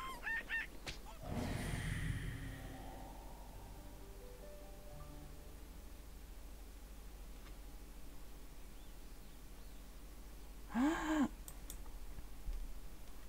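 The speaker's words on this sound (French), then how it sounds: "Ah, il se bat contre le super coq en plus, attention." Roosters fighting in The Sims 4 game, with squawking and honking fowl calls in two separate bursts, one early and one near the end, amid quiet game ambience and faint clicking.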